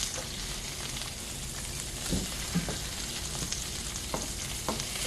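Salmon sears in a hot pan, giving a constant close crackling sizzle with occasional sharper pops and a faint clatter, and no voices over it.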